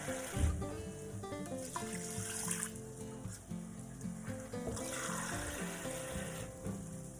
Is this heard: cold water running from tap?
yes